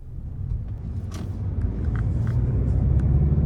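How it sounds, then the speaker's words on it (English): A 2022 Mazda 3 Hatchback 2.5 Turbo pulls away on a test drive, its engine and road rumble building steadily from a low idle-like drone into a louder, continuous cruising hum, with no voices. "let's go ahead and take this 2022 Mazda 3 Hatchback out on the road for a test drive"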